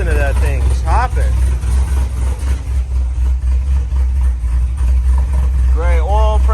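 A Camaro SS with a 416ci, 13:1 compression engine idles with a choppy cam, giving a steady, deep, loping rumble under ongoing talk.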